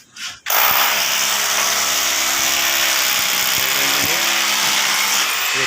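A power drill bores into a roof rafter during construction, starting abruptly after a short burst of noise and then whining loudly and steadily nearby for several seconds; no talking.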